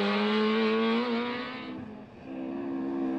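A Ford Escort rally car on a stage of the Rally of the Lakes in Ireland sweeps past, its loud, high-revving engine holding steady, then dipping briefly as it goes by and picking up again as it pulls away.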